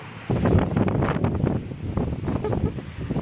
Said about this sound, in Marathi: आता वारा खूप वाराच आहे सगळा